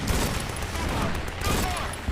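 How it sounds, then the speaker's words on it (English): Enemy gunfire in the VR war game Grit and Valor 1949, a dense, continuous crackle of shots under a dull combat rumble throughout the short stretch. "They're shooting at me."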